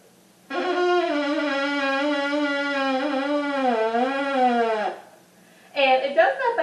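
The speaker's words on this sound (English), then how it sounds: "is called the straw oboe, and when you play it, it's going to sound like this." An oboe made from a disposable plastic straw plays a sustained buzzing reed tone for about four seconds, slightly wavering in pitch, followed by a brief pause and another short squawk.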